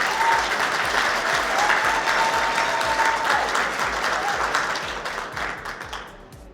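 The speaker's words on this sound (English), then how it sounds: "One more big round of applause for Brian." Sustained crowd applause fills the hall at Whittier, California's State of the City 2024 after a presentation, steady and dense, then gradually fading near the end.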